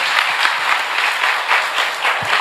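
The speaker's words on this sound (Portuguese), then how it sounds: "Agora, por gentileza, pode aplaudir o Senhor Jesus." A church congregation at a regional pastors' meeting in Cruzeiro do Sul, Acre, applauds in steady, loud, continuous clapping with a slightly pulsing rhythm and no talking over it.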